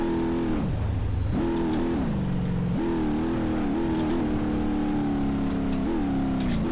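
A Ford 6.0 Powerstroke diesel engine in BeamNG Drive revving repeatedly, pitch rising and falling in steady surges, loud and close with no talk over it.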